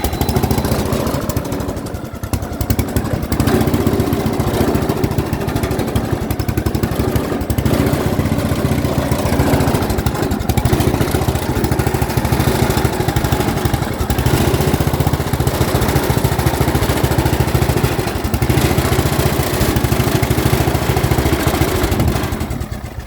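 A Yard Machines lawn tractor engine runs a bit shakily, a loud, continuous close-up rumble with a rough, uneven chug throughout, heard alone with no talking.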